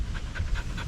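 A dog on a farm pants in quick, steady rhythmic breaths, close and clear, with no other sounds over it.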